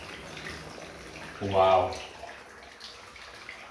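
Shower water runs in a steady, hissing spray from start to finish, briefly swelling louder as someone gives a short exclamation.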